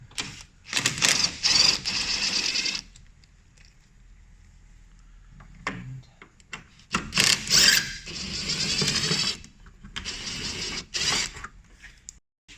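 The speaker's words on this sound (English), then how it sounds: "there's 2 more fasteners securing the headlight. One at the top, one at the bottom here. They're a 10mm. Take those out." A ratchet spins 10mm fasteners off a headlight on a 2013-2018 RAM 1500, giving rapid clicking bursts in two main spells separated by quiet pauses, close and fairly loud.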